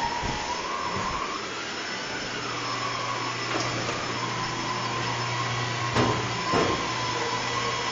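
A homemade mini centrifuge spins with a steady, loud motor whine and airy hum that holds nearly level throughout, with a couple of brief knocks near the end.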